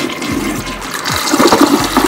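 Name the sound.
toilet flushing with Scrubbing Bubbles cleaning gel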